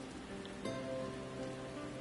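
Steady rain falls through a scene in the video game Final Fantasy XIV: Shadowbringers, a constant even hiss of drops on surfaces with a faint tonal background hum and no talking.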